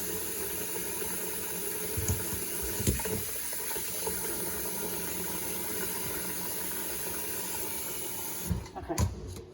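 A tap runs steadily into a pot, filling it with water for boiling wild greens, a continuous close rushing and splashing that stops near the end with a few clunks.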